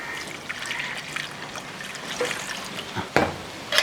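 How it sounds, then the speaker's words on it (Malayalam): Water trickles and pours into a blender jar close by, a light continuous splashing with a few louder bursts toward the end. "ഇനി കുറച്ച് വെള്ളം കൂടെ ജാറിനകത്തോട്ട് ഒഴിച്ചു കൊടുക്കും"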